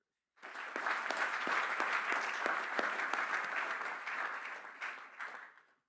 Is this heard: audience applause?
yes